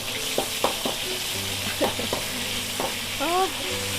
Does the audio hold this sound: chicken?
no